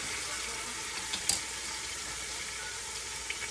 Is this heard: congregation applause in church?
no